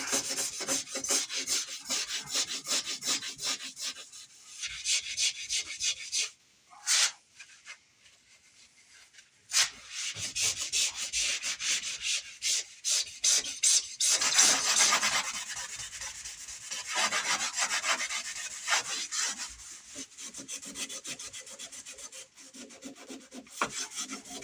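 Hand sanding on a converted metal part, a close, dry rasping scrub in quick irregular strokes that stops briefly twice, then resumes with varying pressure and no talking.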